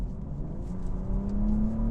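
A 2024 BMW M240i xDrive with its B58 engine, switched into sport mode, gives a steady, moderately loud drone whose pitch rises gradually as the car accelerates, with no talking.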